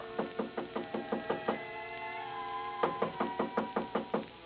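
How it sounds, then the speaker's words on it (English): Two bursts of rapid knocking on a hotel room door, each a run of about seven sharp raps, separated by a short pause; close, loud and crisp, staged as a radio drama sound effect with no talk over it. "I had just put down the phone when someone knocked on the door."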